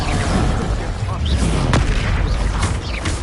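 Booming blasts of the Confringo explosive spell in Hogwarts Legacy burst through a dense, continuous wash of game sound, with one sharp crack standing out midway.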